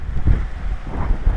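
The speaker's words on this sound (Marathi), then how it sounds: "अरे वारा बघ, वारा बघ," Strong wind buffeting the microphone on a mountain road to Ladakh, loud low gusting rumble in uneven surges across the whole stretch, no talk.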